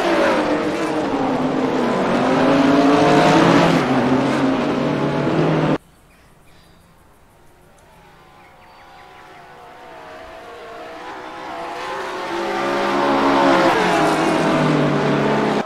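GT race cars including a McLaren and a Lamborghini at Virginia International Raceway roar loudly past, engines swelling and fading, then a quieter gap before another car's engine builds steadily from a distance to a near roar.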